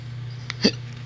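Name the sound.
baby hiccuping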